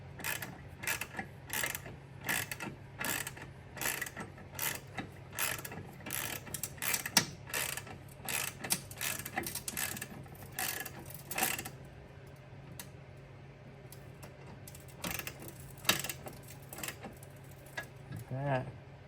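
A socket ratchet wrench tightens bolts under the hood of a 2022 Honda Civic during a coolant overflow tank and battery strap install, giving quick bursts of close, crisp clicking that stop and restart repeatedly, with faint talk between.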